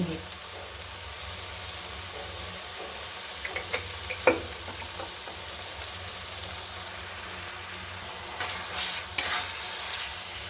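Spice paste frying in oil for a lentil fritter and eggplant curry, a soft continuous sizzle with scattered light clinks and scrapes of stirring.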